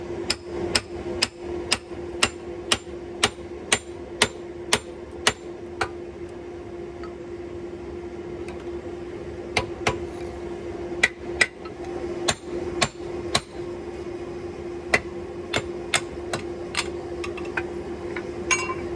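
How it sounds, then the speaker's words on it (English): Sharp metallic hammer blows ring out in a steady series, driving a drift through the eye of a forged Damascus axe head, with a pause midway before the strikes resume, close and alone over a faint hum. "Next step is to flip it around and get that eye drifted open."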